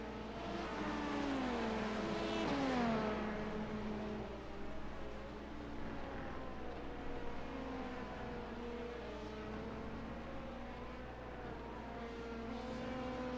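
Race car engine in an IMSA race in a racing video game, a steady droning whine with gear shifts and rising and falling pitch, moderately faint and continuous with no talk.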